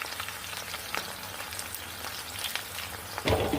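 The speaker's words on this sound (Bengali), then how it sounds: "পেঁয়াজটা আমি বাদামি কালার করে ভেজে নিব।" Onions frying in oil with cinnamon sticks and bay leaves, a soft continuous sizzle with a few faint stirring clicks and a louder crackle burst near the end.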